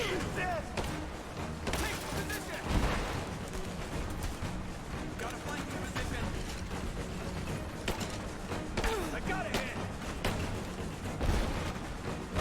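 Gunfire in the Rise of the Tomb Raider video game: dense, repeated shots and bursts keep up for the whole stretch, mixed with shouting combat voices and loud game action.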